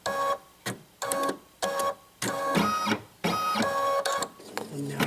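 Embroidery machine stitching an in-the-hoop turkey coaster at reduced stitch speed, in repeated bursts of rapid mechanical whirring and clatter separated by short pauses, close and fairly loud.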